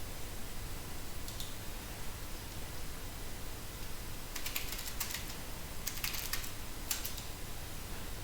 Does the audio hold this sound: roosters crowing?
no